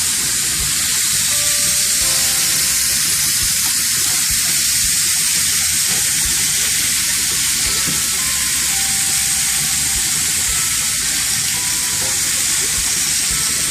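Pork chops sear on a grill with a loud, steady sizzle and hiss that runs unbroken throughout, with faint clinks of flipping beneath and no voices.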